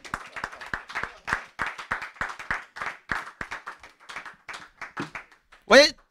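A church congregation applauds in a rhythmic series of sharp, close claps, steady and regular, then trailing off before a brief loud cry near the end.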